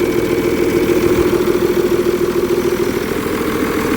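An HTZ tractor fitted with a Cummins 8.3 engine rumbles at a steady idle-like pace with its exhaust still uncovered, a close, constant low drone that carries on without pause and with no talk.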